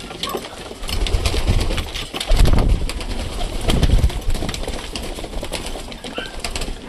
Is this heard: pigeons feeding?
yes